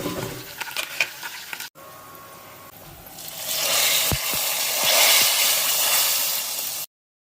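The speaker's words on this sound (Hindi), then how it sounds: "मैंने सोचा दाल में थोड़ा तड़का-शड़का मार दूँ, छन-छना छन-छन वाला," Tempering for dal sizzles loudly in a hot pan, a steady close hiss of frying that swells partway through and holds before cutting off abruptly, with no talking.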